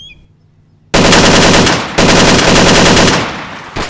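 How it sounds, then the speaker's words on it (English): Rapid automatic gunfire in a shooter video game, sustained bursts that start abruptly after a quiet moment, loud and close, with a brief break before firing resumes. "I shot him"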